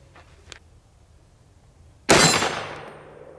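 A 2A Armament AR-15 fires a 5.56 round into a Kevlar helmet about 25 yards away, heard as one sharp, loud crack with a decaying ring, following faint quiet clicks.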